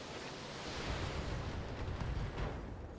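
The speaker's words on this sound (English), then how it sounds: "His AC-10 ammo just exploded internally." An AC-10 ammunition store detonates inside a mech in the video game Battletech: a steady, dense roar of rumbling blast noise that swells slightly midway and carries on without any voices.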